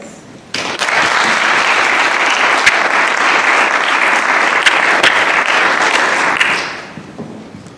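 A lecture audience breaks into steady, full applause for a visiting professor, starting suddenly, holding evenly for several seconds, then tapering off at the end.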